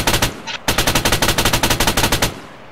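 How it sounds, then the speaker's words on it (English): Coaxial machine gun of an M2A2 Slammer tank firing in Arma 3, a short opening burst, then a longer rapid string of loud, evenly spaced shots that stops abruptly. "I'm gonna hit the F key and switch to my coaxial machine gun."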